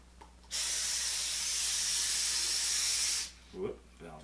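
Gas hisses loudly and steadily from an open valve on a resealable camping stove canister for nearly three seconds, then cuts off abruptly, followed by a brief moment of someone speaking.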